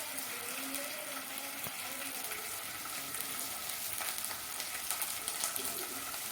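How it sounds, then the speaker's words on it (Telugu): Chicken curry fries steadily in a pan with a constant, close hiss and sizzle throughout, a soft clink near the middle, and no voices. "ఇది కూడా కొంచెం బాగా ఫ్రై అవనివ్వాలండి"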